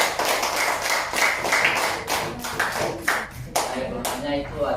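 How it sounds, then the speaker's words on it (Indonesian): Classmates in a school classroom clap in a rhythmic burst of applause for their peers, close and fairly loud, with voices mixed in throughout. "Oke, beri tepuk tangan pada teman-teman."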